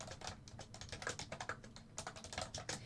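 Fast, steady typing on a computer keyboard, a close run of soft key clicks at an even pace, fairly quiet and with no voices.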